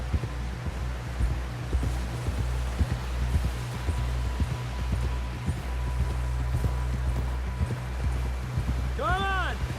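Horse hooves clip-clop steadily in a Red Dead Redemption 2 prologue on PS5, a ridden horse pressing on toward a snowy camp with an even, close rhythm under a constant low wind drone, a brief voice-like chirp near the end.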